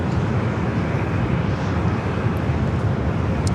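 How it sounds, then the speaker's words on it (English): A 10-year-old Boeing 787-8 Dreamliner of a Japanese airline heading for Tokyo Narita at San Diego airport, its engines a steady, broad jet roar at moderate distance with no voices. "It's 10-year-old 787-8 Dreamliner will cross over 27."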